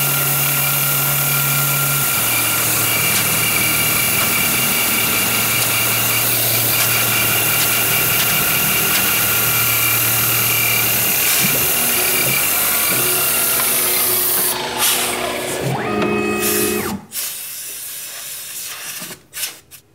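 A Grizzly G0704 CNC mill cuts an outside contour on a part, giving a loud continuous whine and hiss of spindle and cutter with grinding mechanical texture, then it winds down and stops with a few clicks at the end.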